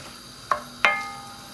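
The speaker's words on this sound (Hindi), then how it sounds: "अनियन अभी हमारा फ्राई हो रहा है" Chopped onions frying in hot oil, a faint steady sizzle beneath two sharp utensil clacks against the pan, close and brief, with the hiss continuing quietly after each.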